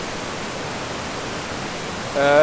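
Brudslöjan waterfall roaring as a loud, steady wash of rushing water heard from near the edge, with a brief tonal sound rising at the very end.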